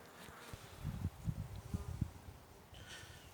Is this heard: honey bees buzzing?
yes